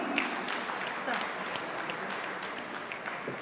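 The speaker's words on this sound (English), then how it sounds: "a big round of applause, please." Applause from an audience at a magazine launch event, a moderate, steady patter of clapping with murmured voices underneath, not very loud.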